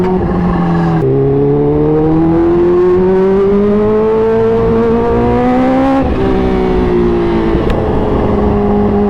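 A Kawasaki Ninja H2 motorcycle accelerating hard on a night ride, its loud, close engine note climbing in pitch through the gears with quick shift breaks between rising pulls.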